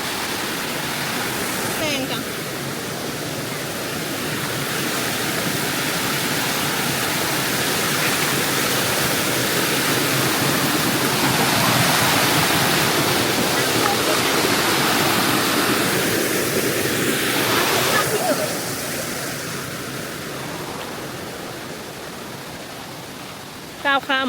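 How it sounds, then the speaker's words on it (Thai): Rushing water from a waterfall on a Thai forest trail in Chaiyaphum, a loud, steady broadband roar filling the whole stretch, swelling slightly midway, with faint voices briefly audible. "ขึ้นไปต้นน้ำตกกัน"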